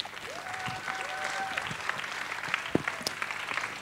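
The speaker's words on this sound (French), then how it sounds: "Sous vos applaudissements nourris." A pitch-competition audience for feature-film and fiction-series synopses applauds for presenters walking up, a steady roomful of clapping heard from a moderate distance with a few brief voices mixed in.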